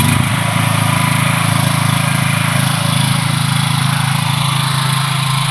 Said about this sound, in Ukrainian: закриваємо повітряну заслонку сюди в ліву сторону і запускаємо генератор